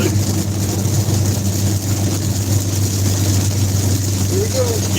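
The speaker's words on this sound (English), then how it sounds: "his exhaust is pretty loud" A loud car exhaust drones steadily at low pitch during a storm chase drive through eastern New Mexico toward the Texas Panhandle, continuous throughout, with road rumble and faint talk underneath.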